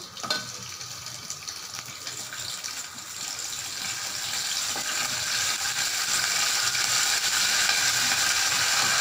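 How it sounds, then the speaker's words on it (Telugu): Mustard seeds and curry leaves sizzle in hot oil for a mushroom masala curry, a steady close crackling hiss that grows louder and denser over several seconds, with no talk. "ఆవాలు కాసేపు కొంచెం వేగిన తర్వాత ఇందులోకి కరివేపాకు"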